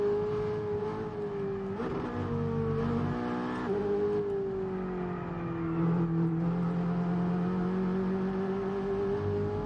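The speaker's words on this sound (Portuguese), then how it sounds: "O som do motor tá gostoso." Supercar engine in the racing game F1 22 on the Silverstone circuit, a continuous high-pitched drone that climbs and drops through gear changes, steady and loud with no talk.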